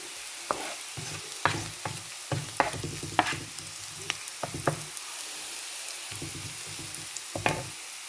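Banana flower pieces stirred and frying in a hot pan until golden, with repeated scraping stirs over a steady sizzle, close and moderately loud with no talking.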